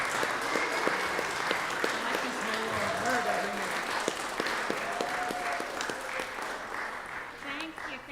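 Enthusiastic applause from a crowd at a student signing day event fills the room, steady clapping with a few raised voices, fading slightly at the end.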